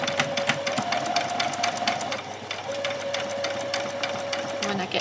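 Sewing machine stitching doll dress arm pieces, a rapid, even needle patter with a brief pause partway through for a back stitch, then running again.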